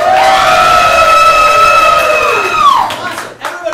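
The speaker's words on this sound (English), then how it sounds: "Everybody claps except for these 5 people." A live audience at an improv comedy show cheers and claps together in a loud, sustained burst. Voices rise in a swelling, unison whoop that holds steady and then slides down and fades out near the end.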